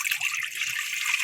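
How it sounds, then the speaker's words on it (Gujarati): Water pours steadily into a cooking pot of dumpling-style dhokli, a continuous close splashing gush with no pauses and no voices. "હાલો, પાણી નાખ્યું."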